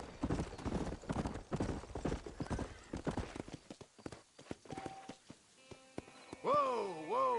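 A ridden horse's hooves clip-clop in a steady, close rhythm on a trail, and near the end the horse lets out a loud, clear whinny.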